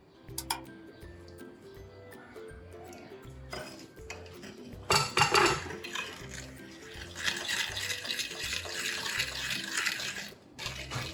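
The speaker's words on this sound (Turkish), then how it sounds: "2 yemek kaşığı sıcak suyla Nescafe'yi öncelikle eritiyorum" Spoon clinking against a bowl while Nescafe, sugar and a little hot water are stirred together, irregular close metallic taps and scrapes with a brief louder clatter midway, no talk.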